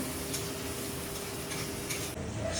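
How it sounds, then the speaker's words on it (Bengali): Masala spices frying in a pan on a low flame while mutton kosha is cooked without onion or garlic, a soft steady sizzle with faint ticking and stirring scrapes, quiet and close. "দেড় থেকে 2 মিনিট মশলাটাকে ভালো মতো কষিয়ে নেবো লো ফ্লেমে।"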